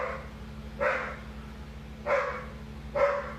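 Three dog barks, spaced about a second apart, sound at moderate distance over a low steady hum.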